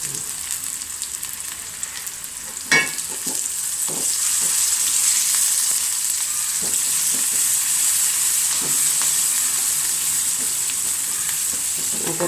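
Curry leaves drop into hot oil in a pan with a sharp crackling burst, then a continuous sizzle settles in while a spatula scrapes and stirs at intervals.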